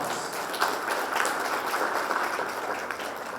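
Audience applause welcoming the chief guest at a school graduation ceremony in India, a steady, even wash of clapping from a large hall crowd, heard somewhat distant.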